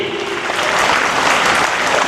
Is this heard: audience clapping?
yes